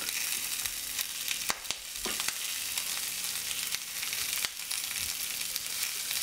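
Chicken pieces fry in a pan with a steady, dense hiss and crackle, close and moderately loud, broken by a few sharper pops and spits.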